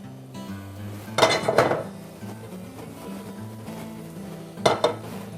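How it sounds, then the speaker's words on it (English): Rosemary browning in hot oil in a pan as a cook moves it around: a soft sizzle runs underneath, broken by two loud bursts of metal clinking and scraping from utensil against pan, with no talking. "as that starts to brown the rosemary and hopefully infuse the oil a little bit"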